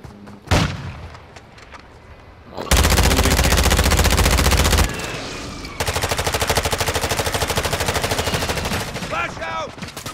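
Gunfire in Call of Duty: Modern Warfare II: a sharp shot, then long bursts of rapid automatic fire, loud and close, pausing briefly before another sustained burst, with game effects at the end.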